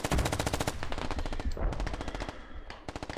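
AK rifle fire in the video game Squad rattles out as rapid, loud automatic bursts of sharp evenly spaced shots, broken by a brief pause and then another long burst, with no voices.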